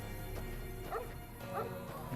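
A few short dog barks and yips in the video game Fallout: New Vegas ring out over a low ambient background, with a louder bark right at the end.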